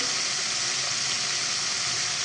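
Peppers sizzle steadily in a hot pan, a close, even frying crackle with no talking.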